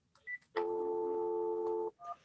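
Telephone tones sound while a phone is being reconnected: a few short beeps, then one long steady tone lasting over a second, followed by a brief two-note blip, close and clear with no voices.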